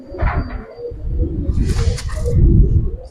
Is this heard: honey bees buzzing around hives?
no